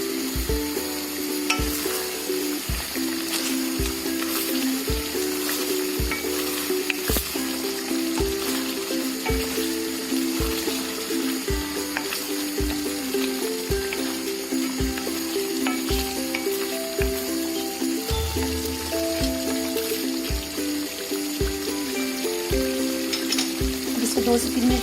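Chicken cooks in a covered pan for dum biryani, a continuous sizzle running under rhythmic background music with a steady beat.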